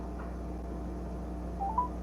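A telephone dialing out to a radio call-in caller: a few short faint electronic dial tones near the end over a low steady background hum.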